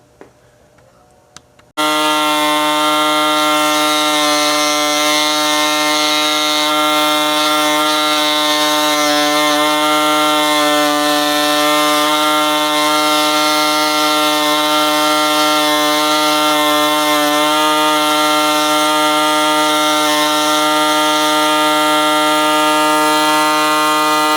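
A power tool cutting out a metal part for a homemade overhead-valve Briggs engine, a loud steady whining drone that starts abruptly after a brief quiet moment and holds without a break.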